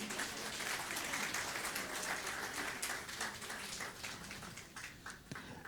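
Congregation at a New Year church service clapping, a soft, dense patter of many hands heard from a distance, fairly quiet and steady and tapering slightly toward the end.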